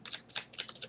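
Tarot advice cards shuffled close up in a quiet room, a quick run of soft riffling bursts with brief gaps between them, no voice.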